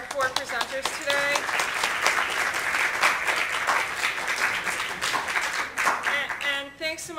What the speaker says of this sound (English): I just want to say another big round of applause for our 4 presenters today.